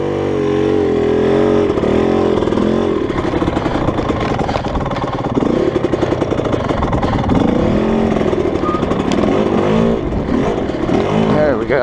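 An off-road vehicle's engine strains and revs in a low gear while crawling up a chunky rocky trail on a club ride in Kelly Canyon, loud and close throughout with a continuous rough growl and shifting pitch.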